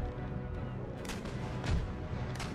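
Naval cannon fire from warships in an Empire: Total War sea battle, several booming shots scattered over a steady rumbling background.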